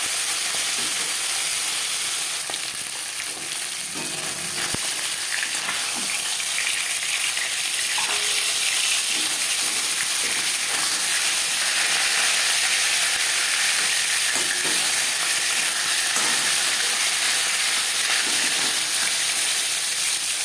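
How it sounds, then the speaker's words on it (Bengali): Tilapia fish frying in oil in a pan, a steady close sizzle and crackle running unbroken throughout with faint clinks now and then, no talking. "মাছ ভাজা হয়ে গেছে"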